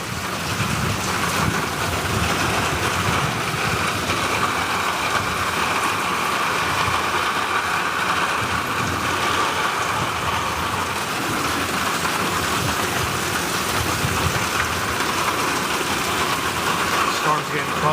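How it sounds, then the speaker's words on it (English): Steady rain falls as a summer thunderstorm approaches, a dense continuous hiss holding evenly throughout with a low rumble underneath and no distinct thunderclaps. "Storm's getting close now."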